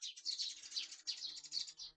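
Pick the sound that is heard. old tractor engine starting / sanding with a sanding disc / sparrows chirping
sparrows chirping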